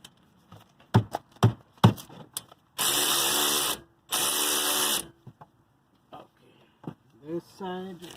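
Power tool loosening brake caliper bolts on a 2014 BMW 320i xDrive during front brake work: two sustained loud bursts of whirring, separated by a short pause, with knocks and clanks before and after.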